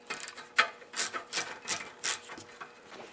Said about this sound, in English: Now I'm going to remove the governor arm by loosening the bolt right here,